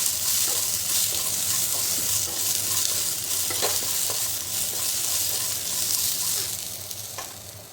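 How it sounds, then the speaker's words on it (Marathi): Cluster beans and green chilli roast in a hot pan, a loud, steady close-up sizzle with occasional stirring clinks and scrapes, easing slightly toward the end; no one speaks. "त्यामध्ये घालायची गवार मिरचीच अगोदर थोडीशी भाजून द्यायची छान"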